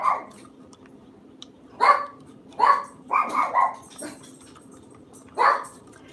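Dog barking indoors in a New York City apartment, several short separate barks in an irregular run at moderate distance, with quiet room tone between them and no talking.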